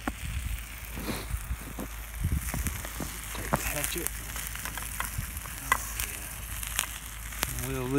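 A grilled cheese sandwich cooking over an outdoor campfire: a continuous crackling sizzle with scattered pops and a few scraping, clicking handling sounds, close by, and speech can be heard.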